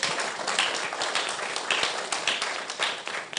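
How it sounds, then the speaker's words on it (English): Audience applause for a panel at a business conference on innovation in Africa: a steady wash of hand claps fills the whole moment at moderate volume, with sharper individual claps standing out and no talking over it. "A round of applause for our wonderful panel."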